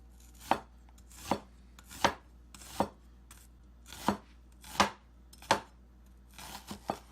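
A knife slicing thin pieces on a cutting board while preparing orange chicken, with about ten crisp, separate cuts at a steady, unhurried pace, close and clear against a quiet background with no talking.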